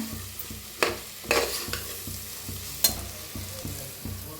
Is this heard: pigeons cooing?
no